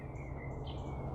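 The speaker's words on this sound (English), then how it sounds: "I hear the birds around me." Birds sing outdoors in a brief snatch of faint high chirps over a low background hum.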